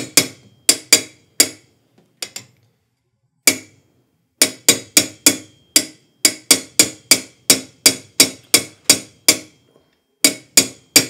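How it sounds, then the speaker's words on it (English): A 1/8 inch metal punch is struck over and over to drive a pin into a Tac 21 rifle chassis for a Remington 700 short action. The sharp, close, isolated taps come in irregular bursts with short pauses between them. "we're using a 1/8 inch punch to do this right here"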